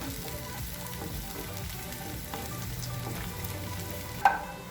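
Onions and curry leaves sautéing in a pan for ladies finger (okra) poriyal, a steady low sizzle with soft stirring scrapes throughout and one sharp clack near the end, no voices.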